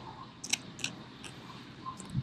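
Crunchy fried fish scales being chewed up close, a few sharp crisp crackles at irregular moments over a quiet background.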